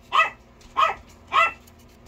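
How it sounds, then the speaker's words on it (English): Three sharp, evenly spaced barks from a nearby dog indoors, each short and loud, with quiet pauses between them. "Pretty bad when you gotta yell over the dog."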